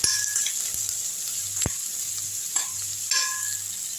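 Onion and field beans sauté in hot oil in a pan, a steady close sizzle broken by a few sharp clinks and scrapes of a stirring spoon, with no voices.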